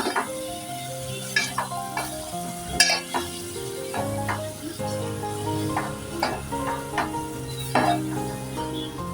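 Dried Bombay duck, potato pieces and drumsticks are stirred in a pan on low gas, with a steady close sizzle and repeated scraping and clinking of the spoon against the pan, no voices.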